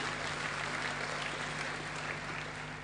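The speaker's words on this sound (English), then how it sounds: "Round of applause." Steady applause from an audience at an Australian tennis awards ceremony, dense and even for about three seconds, moderately loud with a faint hum beneath.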